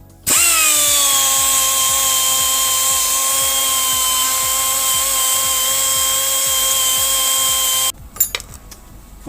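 A handheld power tool cleans up welds on a metal sculpture, whining loudly at a steady pitch for nearly eight seconds up close before cutting off, followed by faint handling clatter.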